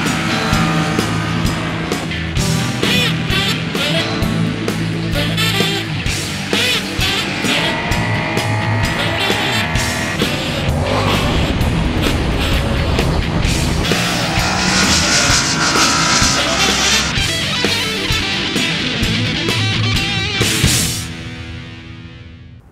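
Yamaha MT-07 and Kawasaki ER-6N motorcycles circulating on a race track, with engines revving up and down through gear changes and a loud, dense roar, ending in a sudden cutoff.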